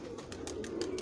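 Domestic pigeons kept in a home loft give a low, steady cooing murmur, close and continuous, broken by several brief rustling bursts, with no voices.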